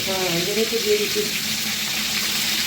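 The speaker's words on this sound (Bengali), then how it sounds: "হালকা পিটোপিট করে ভেজে নেবে তাই তো" Food fries lightly in a pan for a kakrol rezala, a soft, even sizzle running throughout, with a brief voice-like tone over it near the start.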